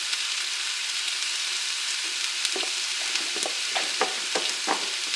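Zucchini frying in a pan, a steady close hissing sizzle with scattered crackles and small pops as pieces are stirred, no voices.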